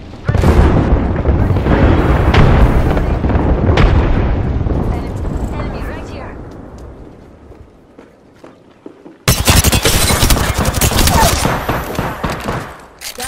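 Gunfire in Apex Legends ranked play: loud bursts of shots and blasts packed over the first seconds, fading, then a sudden dense volley near the end, with voices in the game.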